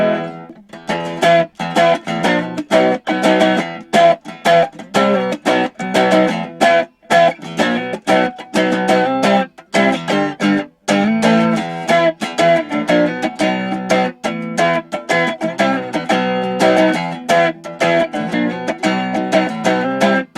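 A clean Stratocaster electric guitar plays a run of picked notes and chords, dry and up close with no reverb, short sharp attacks and no lingering echo.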